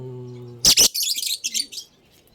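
A few sharp, high bird chirps close by inside a colony nest box, followed by a quick scatter of softer twittering calls, over a faint low hum.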